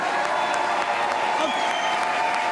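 Sustained audience applause in a broadcast studio, a steady, full wall of clapping hands that holds evenly throughout, with some voices faintly underneath.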